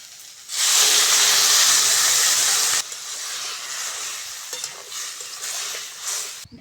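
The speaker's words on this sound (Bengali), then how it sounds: "সবজিগুলো ভালো করে ভেজে নিয়েছি দিয়ে দেবো লবণ হলুদ এবার দেবো জল" Water poured onto fried vegetables for a Bengali shukto sets off a loud, bursting hiss of steam that lasts about two seconds, then settles into a steady, softer sizzle in the pan with faint stirring.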